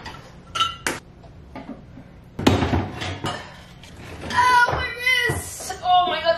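A crowded kitchen drawer is pulled open and rummaged through, with sharp clinks of cutlery and the clatter of pots and utensils. Bursts of rattling come between moments of talk, close and fairly loud.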